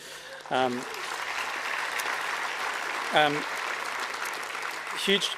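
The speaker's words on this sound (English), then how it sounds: "Huge round of applause to you" Steady audience applause fills a community talk on electrification in Greater Bendigo, a dense continuous wash of clapping under a few short spoken interjections.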